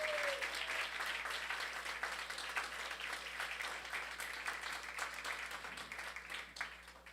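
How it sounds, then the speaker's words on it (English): Audience applause for Elizabeth and the family at a memorial-style evening event, a steady wash of many hands clapping that carries on for several seconds at moderate level, with no talk over it. "big round of applause for Elizabeth and the family"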